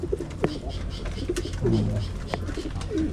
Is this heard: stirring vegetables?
no